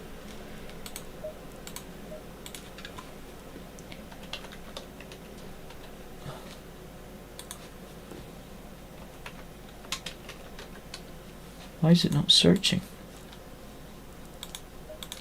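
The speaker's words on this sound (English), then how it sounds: "Trying to type and it won't accept my keyboard" A computer keyboard is tapped in light, scattered keystrokes during an Assetto Corsa Competizione session at Bathurst, then comes a short, louder burst of rapid clatter. A person briefly speaks over a low steady hum.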